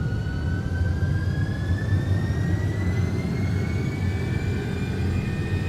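Simulated MD-11 freighter jet engines spool up for takeoff, a loud steady roar with rising whining tones climbing slowly throughout.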